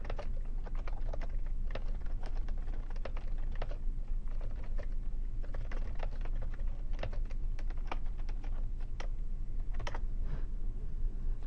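Fingers type steadily on a computer keyboard, with a continuous run of close, crisp key clicks at an even pace and a few louder strokes, over a faint low hum and no talking.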